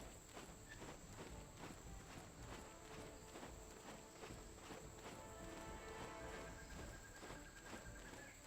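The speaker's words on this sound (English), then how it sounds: "Horsey." A horse walks along in the online role-playing game Black Desert Online, its steady clip-clop hoofbeats repeating in a regular rhythm over a continuous bed of ambient game sound.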